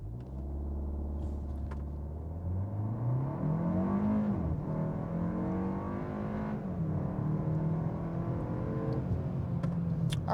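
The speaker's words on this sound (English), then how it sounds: "Let's see what we can get here on our actual stretch of road that we constantly use. So I have the vehicle in sport mode." A 2025 Kia K4 GT-Line in sport mode launching from a brake-torqued stop and accelerating 0 to 60, the engine droning up steadily through rising revs with a shift dip, loud and continuous from inside the cabin.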